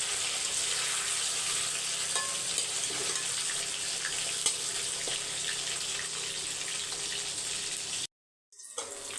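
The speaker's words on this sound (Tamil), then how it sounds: "நல்லா ஃப்ரை ஆகிடுச்சு பாருங்கள்." Steady, dense sizzle of food deep-frying in oil in a home kitchen, loud and continuous with a few faint stirring clicks, cut by a short gap of silence near the end before the frying noise resumes.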